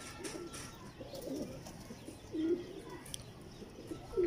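Old teddy pigeons coo softly in a quiet setting, a few low, rounded calls spaced out over a few seconds against faint background noise.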